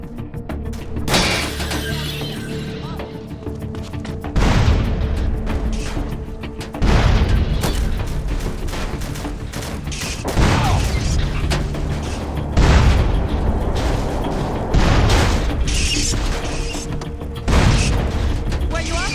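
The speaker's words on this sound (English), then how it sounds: "now when we jump from a high altitude and the force is big enough, our car will instantly explode" Cars in a modded GTA San Andreas slam down from great heights and blow up, with repeated heavy booms and metallic crunches arriving every few seconds over a constant engine drone.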